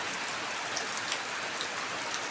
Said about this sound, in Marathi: कसा मुसळधार पाऊस आहे बघा